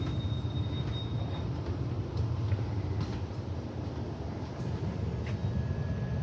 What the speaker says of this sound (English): it's just a normal suburban train